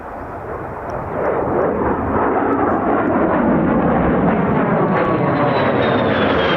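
F-35B stealth fighter jet flying past, a loud broad jet roar that swells after the first second and holds strong and close to the end.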